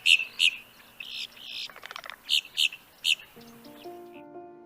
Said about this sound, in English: Boat-tailed grackles are very gregarious and noisy. Their screechy call will be familiar to many.